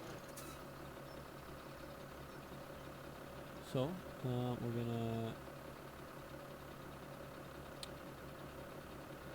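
A New Holland 8340 tractor engine in the Farming Simulator 2017 game runs as a steady, low idling hum throughout, while someone briefly speaks over it.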